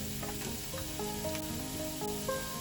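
Garlic and onion sizzle gently in a pan on the stove, a soft continuous crackle and hiss at low volume throughout, with faint clinks of stirring and no talking.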